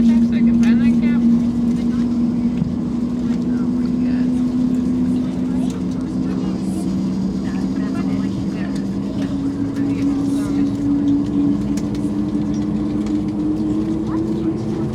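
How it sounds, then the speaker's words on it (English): Pratt & Whitney engines on a JetBlue Airbus A220 spool up with a loud, steady droning hum that slowly rises in pitch over a constant cabin rumble. "now turn your volume up for this part as these Pratt Whitney engines start up"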